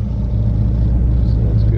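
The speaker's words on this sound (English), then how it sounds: "It's a somewhat cold start." A 1967 Oldsmobile Cutlass engine idling after a cold start, a loud, steady low rumble heard up close with no talk.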